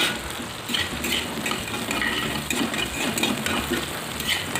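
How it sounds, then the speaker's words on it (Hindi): Soybean chunks frying in hot oil with turmeric in a home kitchen pan, a steady close sizzle and crackle with occasional stirring scrapes throughout. "सोयाबीन फ्राई होके रेडी हो गया है"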